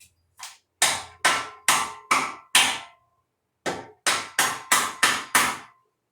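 Sharp metallic hammer blows ring out during work on a K24A engine, in two steady runs of about six strikes each, separated by a short pause, loud and close.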